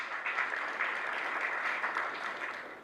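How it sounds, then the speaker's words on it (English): An audience at a business banking launch event claps steadily, a dense, moderately distant patter of many hands sustained throughout. "I think that deserves a hand clap."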